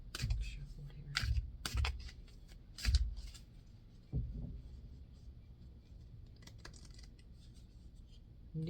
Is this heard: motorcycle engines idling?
no